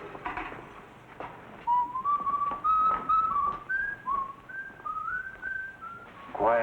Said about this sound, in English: And he's whistling all night. Old songs.